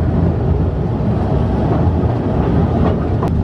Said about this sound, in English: This unique narrow-gauge railway was designed to carry mail, not people.